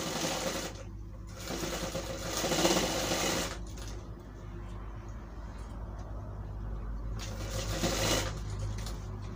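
Sewing machine stitching a Nehru coat, running in bursts of rapid mechanical whirring, with a couple of loud runs separated by quieter handling of the fabric, close by and without speech.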